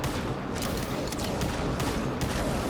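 Rapid gunfire in the shooter game Rivals, a steady stream of sharp shots at close range, loud and continuous throughout with no talk over it.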